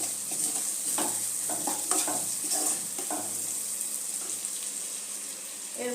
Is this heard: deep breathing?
no